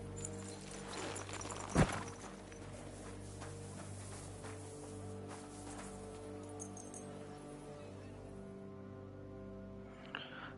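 Horse hooves clip-clop at a walking pace in Kingdom Come Deliverance 2, soft and steady over a low droning game background, with one louder thump near the start.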